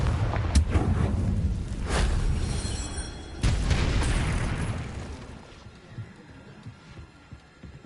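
Confringo spell blasts in Hogwarts Legacy land as deep booming explosions, a few heavy bursts with rumbling low tails, loud and close, fading to quieter ambience near the end.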